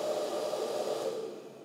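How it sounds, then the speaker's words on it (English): A hair dryer running on maximum heat, powered from an EcoFlow Delta 2 power bank, gives a steady close airy whoosh with a motor hum that holds constant and then eases slightly toward the end, with no talking. "I know a hairdryer will do it."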